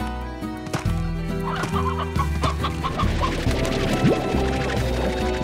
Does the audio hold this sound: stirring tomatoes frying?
no